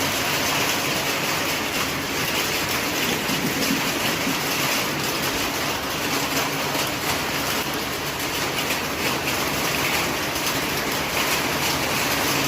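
Heavy rain pouring steadily for a long spell, a dense continuous broadband hiss with a faint rumble underneath, loud and unbroken throughout with no voices.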